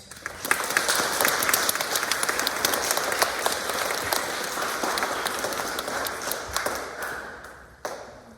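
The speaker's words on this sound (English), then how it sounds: "Please give a round of applause to welcome our guests." An audience at a school program gives a welcoming round of applause for guests. The clapping is dense and continuous, fades toward the end and finishes with a few last claps.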